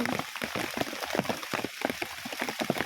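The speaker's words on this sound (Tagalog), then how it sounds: "Ang lakas ng ulan, guys." Steady heavy rain pattering hard on a surface, dense broadband hiss with irregular louder drops, close by, with faint voices now and then.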